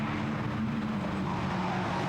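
Abarth 500 race cars circuit racing at Oulton Park give off a continuous buzzing engine roar, a steady dense drone with slight pitch shifts as the cars run together, heard at moderate distance without talk.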